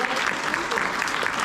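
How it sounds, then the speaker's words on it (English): Dense, steady applause from a convention crowd at a voice-actor Q&A panel, filling the room evenly throughout with a faint murmur of voices mixed in. "Let's give a round of applause."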